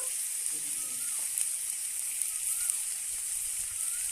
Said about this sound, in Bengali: আমি পেঁয়াজ আলুটা ভেজে নেব